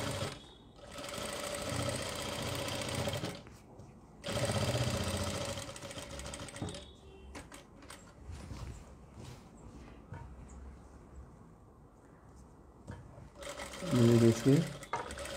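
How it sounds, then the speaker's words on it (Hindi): A sewing machine stitching a frock runs in loud whirring bursts with pauses between them, and a person talks over the quieter stretches in between. "बिल्कुल इसके जड़ में सिलाई लगाएंगे इस तरीके से।"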